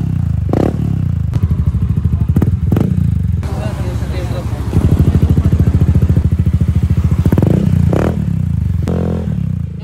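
A 300cc Yamaha XMAX scooter with an aftermarket Shark exhaust tip idles with a loud, rapid-popping exhaust and revs up now and then, with metallic clatter and clunks close by.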